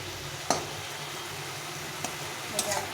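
Mustard greens fry in a pan with a soft, steady sizzle, broken by a few short scrapes and clacks as they are stirred.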